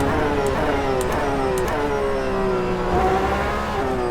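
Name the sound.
race car engine in racing video game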